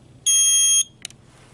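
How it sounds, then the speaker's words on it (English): A Riken FI21 gas analyzer gives one loud, shrill electronic beep of about half a second at power on, followed by a faint brief click in an otherwise quiet room. "Notice the unit will beep"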